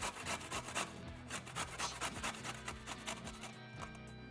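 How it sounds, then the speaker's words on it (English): Organic carrots and a radish grated on a metal box grater, quick repeated rasping strokes in a steady rhythm, close and fairly quiet. "I'm just gonna take these and very quickly on a box grater,"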